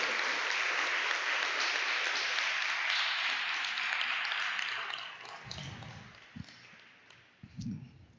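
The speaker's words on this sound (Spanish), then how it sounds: "Denle un gran aplauso al Rey de Reyes y Señor de Señores." Church congregation giving a big round of applause to the King of Kings, dense steady clapping that fades after about five seconds into a few scattered claps and taps, with low thumps near the end.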